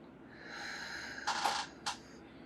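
Breathing exercise with the diaphragm pushed and held, then released: two strong, breathy exhales, the first longer and the second short, close to the microphone over quiet room tone, with no talking.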